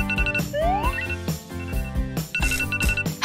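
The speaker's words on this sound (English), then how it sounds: "Okay, let's shut off this alarm." A phone alarm plays a bright, repeating electronic ringtone melody, close and fairly loud, with layered chiming tones and quick rising sweeps that keep cycling without pause.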